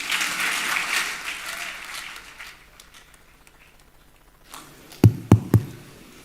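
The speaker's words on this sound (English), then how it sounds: "Can we give him a more resounding round of applause?" Applause at a graduation ceremony for an executive intelligence management course, a loud round that fades to near quiet, followed by a few sharp, close knocks or taps.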